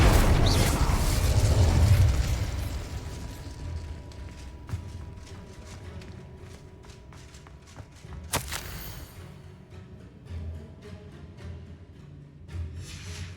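An Incendio fire spell goes off in Hogwarts Legacy with a loud booming burst, then fades into scattered crackles and soft pops over a quiet background.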